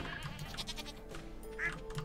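Sheep in the farming video game Stardew Valley give a couple of short bleats amid soft game ambience, with one clearer bleat standing out near the end.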